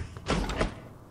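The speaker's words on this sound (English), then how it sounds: "Ah, door opens." A door opens in the video game Prey: a short, swelling mechanical whoosh and rumble rising out of low background hum, peaking twice in quick succession, then fading within about a second.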